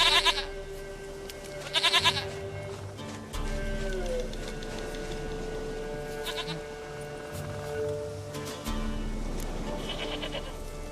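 Goats in The Witcher 3 bleat in several loud, wavering calls spread through the scene, with quieter ambient game sound and low rumble in between.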